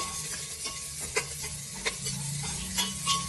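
Onions, peanuts and coconut fry in a pan for bisi bele bath. A close, steady sizzle runs under repeated spoon-stirring scrapes and soft clinks, with no voices.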